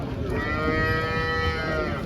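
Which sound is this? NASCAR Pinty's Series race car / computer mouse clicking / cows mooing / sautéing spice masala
cows mooing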